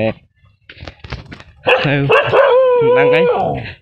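A village house dog barks at an arriving visitor: a few short yips and barks, then a drawn-out whining, howling bark close by, loud and alone.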